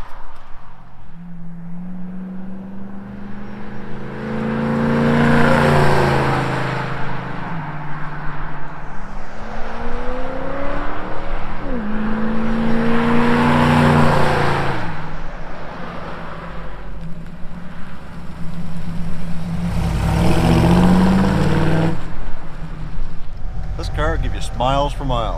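A 1936 Dodge street rod fitted with a 340 engine from a 1971 Plymouth Duster, heard on its first cruise as it drives past several times, the engine note swelling loudly and fading away with a continuous rumble throughout.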